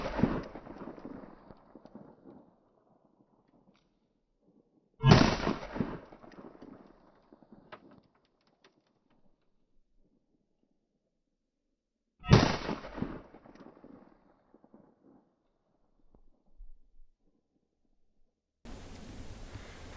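Three sharp, loud 5.7x28 pistol gunshots fired at body armor at an outdoor range, each a sudden blast with a decaying echo tail, spaced several seconds apart with quiet between, no talking.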